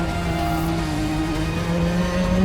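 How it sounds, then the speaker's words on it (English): An 82 mph two-gear shifter kart drives a large, technically demanding kart track in Asia, its engine a loud, steady, high-pitched drone held close throughout. "not only am I learning to drive a brutally fast shifter kart"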